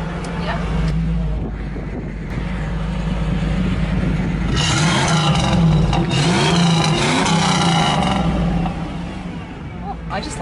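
Car engine running steadily with rising revs partway through, under wind noise and people talking, in the Knight Rider car.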